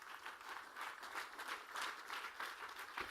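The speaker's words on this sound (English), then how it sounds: "give Lungi a big round of applause" An audience claps for a speaker at a talk on rural empowerment, a faint, steady patter of applause from a crowd that swells and ebbs slightly over a few seconds.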